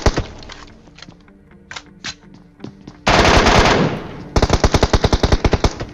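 MK14 rifle fire in a video game: scattered single shots and short bursts, then a loud sustained burst and a rapid string of evenly spaced shots, close and dominant with no talk.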